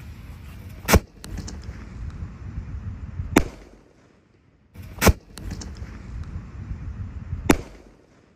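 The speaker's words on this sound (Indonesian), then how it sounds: "Lanjut yang kita nyalakan di sini ada Bima Sakti Roman Candle ukuran 4 inci guys" A Bima Sakti 4-inch Roman candle firework fires four sharp, loud bangs in two pairs about two seconds apart, each followed by a crackling, hissing tail.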